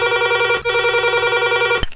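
A telephone rings loud and steady for an incoming call on a Hindi radio phone-in show, with a continuous electronic tone and a brief click near the end.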